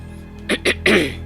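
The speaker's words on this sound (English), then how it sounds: "keep trying to clear my throat" Two short throaty hacks followed by a longer rasping throat clearing, close and loud over a low steady hum of Metroid Prime 3: Corruption game audio.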